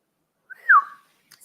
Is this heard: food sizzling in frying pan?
no